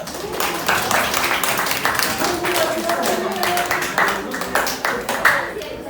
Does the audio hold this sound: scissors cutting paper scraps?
no